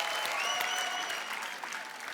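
Studio audience applause on a TV comedy show: loud, dense clapping from a close crowd, steady for about two seconds and tapering slightly at the end.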